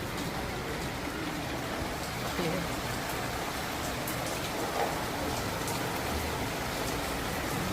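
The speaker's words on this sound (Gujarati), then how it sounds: "તો વરસાદ સાંજે સ્ટાર્ટ થઈ ગયો છે" Evening rain falls steadily outdoors. It makes a dense, even hiss of drops that holds at the same level throughout without pause.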